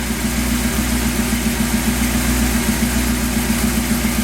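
An old 1966 Chevy car engine idles steadily up close, a low continuous rumble with an even, throbbing pulse and no revving.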